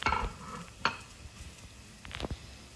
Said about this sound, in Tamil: இப்போ இதை எல்லாத்தையும் சேர்த்துட்டு ஒரு 30 செகண்ட்ஸ் மட்டும் வதக்கிக்கிறேன்